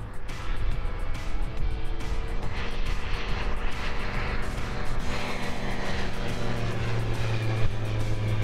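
Loud, close engine roar of an Evektor light sport aircraft rolling out after touchdown, a continuous drone with rumble and a rising hum toward the end.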